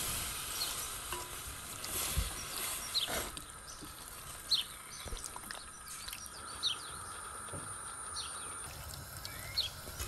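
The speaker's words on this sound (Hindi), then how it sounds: "आता हांडी गरम जाले उपरांत हे मॅरिनेट केल्ले चिकन आमी आता घालया" Marinated chicken fries in a hot pot without added oil while being stirred, a soft sizzle broken by intermittent scraping and clattering, with faint bird chirps in the background.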